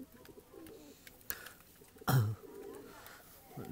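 A Tula pigeon gives a short, close coo among soft rustling, while someone talks quietly nearby in the background.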